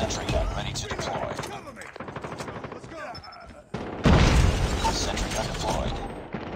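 Gunfire and a heavy missile-strike boom in the Call of Duty Mobile video game, with bursts of automatic shots followed by a loud sustained blast near the end, under game voice callouts.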